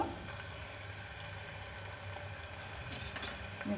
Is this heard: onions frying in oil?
yes